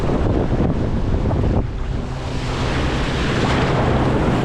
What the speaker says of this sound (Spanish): pero como veis el mar está movido.